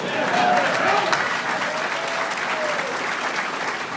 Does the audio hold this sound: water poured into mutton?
no